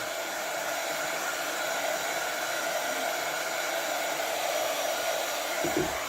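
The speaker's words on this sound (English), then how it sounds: "if you have a very low setting on your heat gun, that would be all that it's going to take" A heat gun on a low setting dries paint on a waxed cardboard gift box, blowing with a steady, continuous whirring roar from close by throughout.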